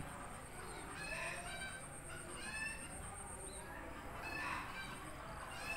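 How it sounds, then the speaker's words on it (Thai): Chickens cluck and a rooster crows at a rural Thai cottage, the calls repeating over steady outdoor background noise at moderate distance, with some faint voices. "มีเสียงไก่ร้องด้วย"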